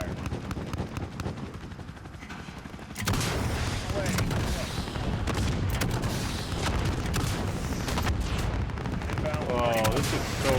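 Gunship cannon fire from an aircraft in Call of Duty, heavy booming shots bursting over a constant loud rumble, with a voice speaking partway through.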